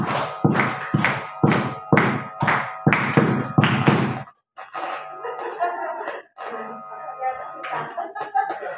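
A group of students at SMP Negeri 8 Pekalongan claps a counted pattern, with loud, rhythmic bursts of many hands in steady beats, followed by a pause and then talking with scattered claps.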